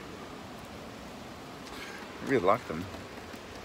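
Steady rain patters on a car as a broad, even hiss running the whole way through, with a brief burst of nearby speech in the middle.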